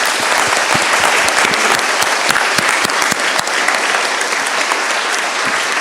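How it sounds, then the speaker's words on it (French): A large seated crowd applauds at an anniversary celebration for an organisation, a dense, loud, sustained wash of clapping with sharp individual claps standing out, holding steady throughout. "Nous tous, on va les applaudir"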